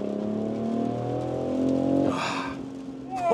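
A BMW X3 M50 with a 3.0-litre turbo engine pulls hard during agile driving, its engine note climbing steadily then cutting off, followed by a brief whooshing burst and another rising surge, heard from inside the car.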